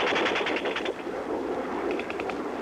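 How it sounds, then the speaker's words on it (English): MiG jets strafing and bombing along the Suez Canal front during war, heard as rapid bursts of gunfire-like cracks, loud and close, a dense volley first then a second shorter burst after a brief lull. "It was also strafing and bombing uncomfortably close."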